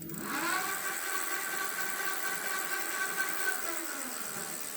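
A thumb-throttle electric bike motor, a KBO or Himiway, spins up on the kickstand with the rear wheel lifted, giving a steady, close whirring hum with layered tonal whine that holds evenly throughout.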